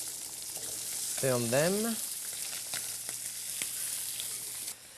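Sweetbread browns in a hot pan with a steady, close sizzle throughout, while someone speaks briefly over the frying.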